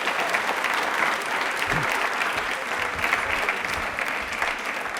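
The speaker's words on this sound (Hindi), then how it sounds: "ताली एक बार जोरदार बजा दीजिए इनके लिए" A studio audience applauds on a televised quiz show, delivering a steady, dense burst of clapping that holds evenly for about five seconds, with faint voices underneath.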